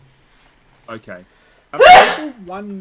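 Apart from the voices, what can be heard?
sneeze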